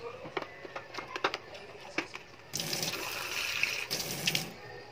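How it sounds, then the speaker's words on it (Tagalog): Water pours into a container set up to soak a ProLife Atlas vitamin E softgel, a steady splashing fill that starts partway through and runs on to the end after some quieter handling noises. "Tapos, syempre, ilalagay natin ang tubig."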